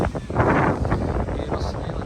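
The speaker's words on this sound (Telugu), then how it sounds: "విండ్ కూడా చాలా ఉంది." Strong wind at a beach buffets the microphone as a steady, loud roar with low rumbling gusts, heard alone and close.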